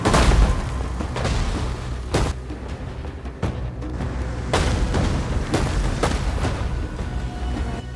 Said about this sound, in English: The Ottomans continued to bombard the walls with a particular focus on an area where they planned to attack.